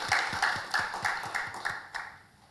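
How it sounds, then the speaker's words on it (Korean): A church congregation claps in a steady rhythm of about eight even claps, fairly close and moderate in volume, fading slightly toward the end with no talking over it. "우리 살아계신 하나님께 영광의 박수 올려드리겠습니다."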